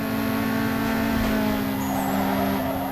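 Rival street-tuned car overtaking in Need for Speed Underground 2, a steady loud engine drone with tonal whine that swells and passes over three seconds, alone without talk.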